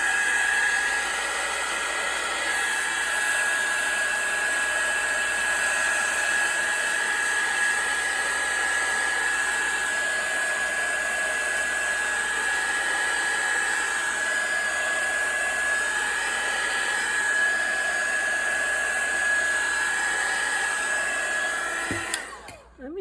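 A hair dryer blows continuously to dry paint on a mulberry paper collage tag, a loud steady whooshing hum with a constant whine that runs close and unbroken before switching off at the end.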